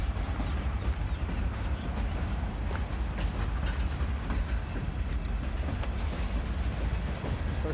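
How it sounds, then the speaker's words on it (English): An empty coal train rolls out of the rail yards, a loud continuous low rumble with steady rattling and clanking of the cars, heard up close without speech. "We're still looking at this coal train leaving train yards."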